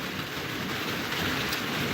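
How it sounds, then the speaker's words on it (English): Steady rain falling outside, a dense continuous hiss of drops with some low rumble, fairly close and loud, no voices. "Yeah, John, it's actually raining."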